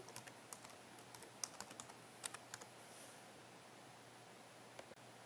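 Keys tapped on a computer keyboard while entering a username and password, short clusters of light clicks with pauses between them over a faint steady hum, close and fairly quiet.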